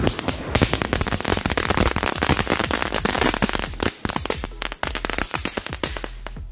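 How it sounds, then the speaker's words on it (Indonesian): Pretek firecrackers, many of them set out together, burst in a dense, fast run of sharp cracks and pops that lasts several seconds, with a few short gaps near the end. "jadi sekarang kita cobain petasan pretek ya"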